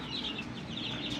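A chicken clucks near a chicken coop beside a thatched hut home in Vanni, Sri Lanka; the clucks are faint and intermittent over a low, steady outdoor background.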